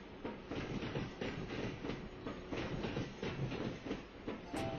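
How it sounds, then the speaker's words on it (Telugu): A train crosses a river bridge, heard as a continuous rumbling roar with rhythmic clickety-clack of wheels over the rails, close and steady throughout, with a brief high squeal at the end. "ఇంతలో రైలు యొక్క శబ్దం ఒక్కసారిగా మారింది"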